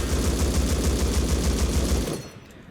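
Sustained automatic fire from an M249 machine gun in the video game Rust, a dense rapid burst running loud and continuous for about two seconds before cutting off into a brief fading tail.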